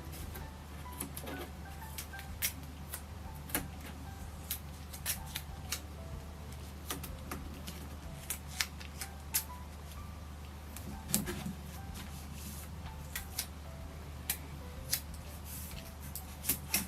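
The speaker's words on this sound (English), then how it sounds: "So let's secure it to the table with this masking tape here" Masking tape is torn from the roll and pressed onto a table while a pantograph is secured, giving a quiet run of sharp, irregular ticks and crackles against low steady room hum.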